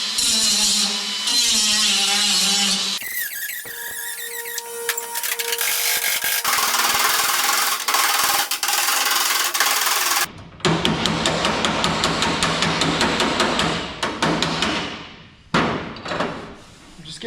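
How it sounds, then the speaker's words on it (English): A metal panel with a blown hole is sanded by hand before a copper patch repair, with rough rubbing strokes, a few knocks and thumps, and bursts of harsh abrasive noise in stretches, mixed with workshop clatter. "So I'll just give it a sand."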